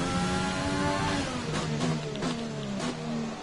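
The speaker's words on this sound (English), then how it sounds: "the engines are pretty loud on F1." F1 race car engines in the F1 2020 game at the Azerbaijan Grand Prix, a continuous loud high-pitched whine that rises and drops through several gear shifts, with no talking over it.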